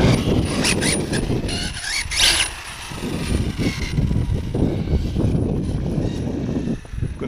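An OFNA GTP2E RC car with a Leopard 780kv motor and a slightly clingy gear mesh drives slowly down a street, giving a steady mechanical whir and ratcheting gear noise that stays close and fairly loud throughout.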